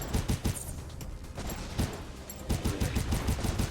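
Ranged weapon fire in Gundam Breaker 3, a rapid series of punchy, close blasts in quick irregular bursts with short pauses, over game background sound.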